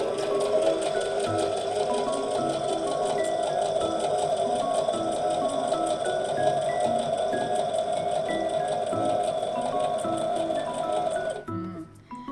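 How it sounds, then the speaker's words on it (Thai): A Brother GS2700 sewing machine stitching a pattern runs with a steady, close mechanical whir and rapid needle ticking for about eleven seconds, then stops abruptly. "ปักเข็มลงเริ่มเย็บ"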